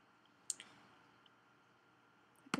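Sharp mouse clicks on an OK button in a DNS settings panel, one near the start and a quick double click at the end, close and crisp over a quiet hum.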